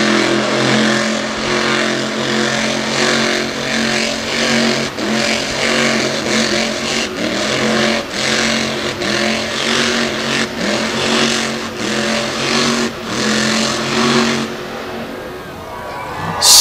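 Monster truck engine roaring and revving hard through donuts at Lake Erie Speedway, loud and continuous with steady throaty growl and surging throttle pulses, a commentator's voice faintly underneath.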